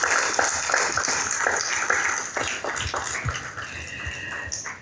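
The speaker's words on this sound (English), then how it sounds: "Let's keep our applause going." Sustained audience applause at a professional awards ceremony as a CFA Institute country head comes up to receive a token of appreciation, steady and fairly loud with scattered individual claps throughout.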